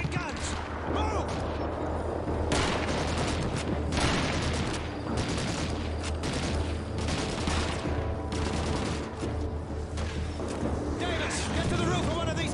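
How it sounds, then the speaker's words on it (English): Artillery and gunfire from a desert battle in the World War II shooter Call of Duty 2: a dense, continuous roar of rapid shots and heavy blasts that runs loud through the whole stretch, with shouted voices mixed in. "Sergeant Davis, use your binoculars to direct the artillery fire."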